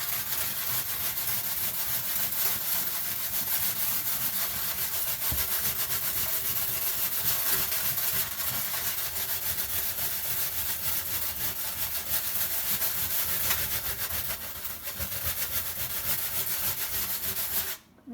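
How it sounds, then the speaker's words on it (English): A pumice stone scrubs an oven surface in a continuous harsh, gritty rasping, close and loud, with rhythmic back-and-forth strokes and a brief pause near the end. "The pumice stone is definitely a much better option for ovens. You just got to deal with the sound"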